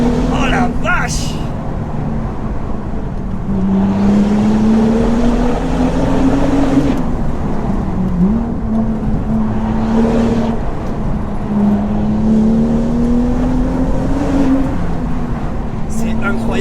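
A BMW M2's engine drones loudly and continuously from inside the car, its pitch rising and falling through several pulls, while someone talks excitedly over it.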